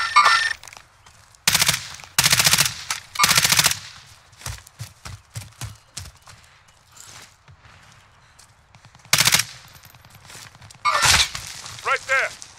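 Bursts of automatic rifle fire in Call of Duty Warzone, several short rapid strings of shots with quieter single cracks and footsteps between, under occasional voices from the players.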